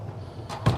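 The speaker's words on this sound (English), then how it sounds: "Little sliding door to close off the bedroom" A small sliding bedroom door in a 2025 Newmar Dutch 4369 motorhome rolls along its track and closes with a soft, quick thud, heard close and alone.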